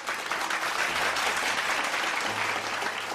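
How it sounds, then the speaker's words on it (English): Steady applause from a conference audience at a closing session, a dense even wash of clapping held at constant loudness throughout, with a faint low hum running underneath. "let's give her a round of applause"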